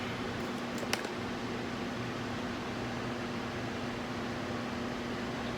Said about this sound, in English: excuse all this noise in the background. I got fans and blowers and air conditioner